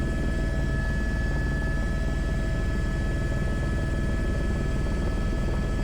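An Airbus H125 helicopter on approach on a long-line slinging job gives a loud, steady rotor thrum with a continuous turbine whine, heard close and unbroken with no voices.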